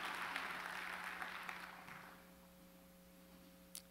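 A church congregation claps for the choir and orchestra, with steady applause over the first two seconds that then fades away to near quiet over a low steady hum.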